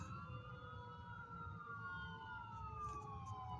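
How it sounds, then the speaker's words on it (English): A fire truck passes with its siren wailing, the sweeping tone gliding over traffic rumble at moderate distance, then bending lower as it goes by, with no talking. "here comes a fire truck and it's coming up and it's going right by me."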